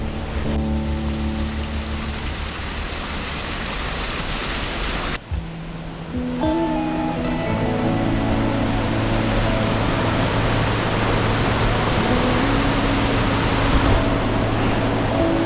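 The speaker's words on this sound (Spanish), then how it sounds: "todo el desfiladero y ahí tenemos la cascada" Continuous roaring rush of a waterfall on the Guadalevín River in the Tajo gorge at Ronda, Spain, loud and steady, with a sharp cut partway and some tonal hum mixed in.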